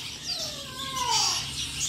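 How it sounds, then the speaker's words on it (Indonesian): Faint thin chirps from prinia and common iora chicks in a nest, a few short high calls and a couple of rising squeaky notes over a quiet background with no talk. "Ada cipo sama perenjak atas. Perenjak atas 2 ekor satu sarang."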